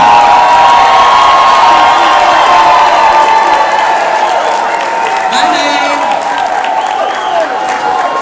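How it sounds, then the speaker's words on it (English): A large crowd at the Illinois State Capitol cheering, whooping and applauding, loud and sustained throughout, echoing in a big indoor space and fading slightly toward the end. "Why don't y'all celebrate yourselves right now with a great big round of applause?"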